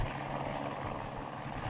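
A search and rescue helicopter flies over a river during a search for a bus that overturned off a bridge, its steady rotor and engine drone filling the air continuously and fairly close.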